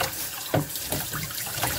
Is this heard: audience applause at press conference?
no